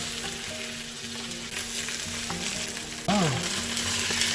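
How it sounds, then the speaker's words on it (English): Salmon sizzles steadily in a pan over medium heat, a dense close crackle that jumps louder as the fillet is flipped; a voice briefly exclaims over the frying. "On medium heat, let it roast for 4 minutes, then I'm gonna change the side. Okay, flip it over."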